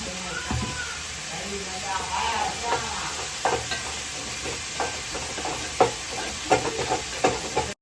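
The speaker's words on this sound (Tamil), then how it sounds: "காரக்குழம்பு வதங்கிட்டு இருக்கு" Kara kuzhambu, a spicy Tamil tamarind curry, sautéing in a pan, with a steady low sizzle under scattered scraping stirs and clinks from up close; a voice speaks intermittently over the cooking.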